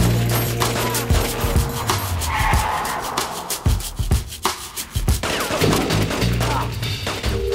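Gunfire from The Getaway, a video game set in London with realistic weaponry: sharp shots and short bursts crack out over a dense, rumbling game soundscape, irregular and fairly loud.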